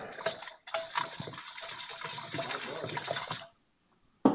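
A St. Patrick's Day cocktail being stirred in a bowl, with a steady, close wash of sloshing liquid and faint clinks for about three seconds before it stops abruptly.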